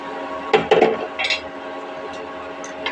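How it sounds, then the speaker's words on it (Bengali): The metal lid of a cooking pot holding simmering greens with shrimp is lifted off, giving a quick clatter and scrape of metal, then quiet with a few faint clinks. "ঢাকাটা খুলে এবার দেখে নেব।"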